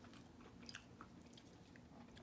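Breadcrumb-coated chicken cordon bleu gets bitten and chewed, producing a few soft, close crunches and chewing sounds at low volume with no talking.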